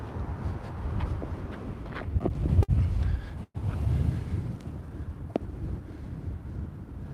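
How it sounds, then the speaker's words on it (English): Strong wind of about 30 to 40 mph buffets the microphone in loud, continuous low roaring gusts, with two brief dropouts and no voice heard. "There are 30 or 40 mile an hour winds here today"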